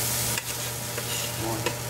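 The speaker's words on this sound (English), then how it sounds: "Stir that up." Close, soft stirring scrapes through a pumpkin dinner sprinkled with sugar as it sizzles gently in a pan over a low, steady hum.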